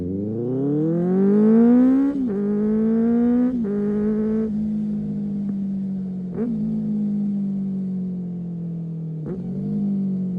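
A 600 cc vehicle's engine revs up through several gear changes, its pitch rising then dropping at each shift before settling into a steady drone, loud and close with no talking.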